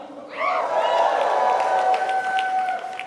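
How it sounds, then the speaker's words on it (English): A crowd applauds and cheers steadily, the clapping swelling quickly and continuing with a few whoops rising above it. "I'm not used to hearing applause when I walk out onto the stage"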